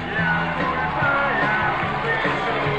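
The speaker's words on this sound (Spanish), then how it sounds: "Un aplauso para" A studio audience on an Argentine TV show in 1992 claps and cheers, a loud, continuous wash of applause mixed with yells and whoops that holds steady throughout.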